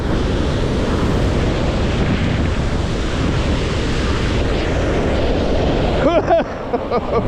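Roaring waterfall heard from very close by kayak, a loud, unbroken rush of falling water with a few brief faint voice-like chirps near the end.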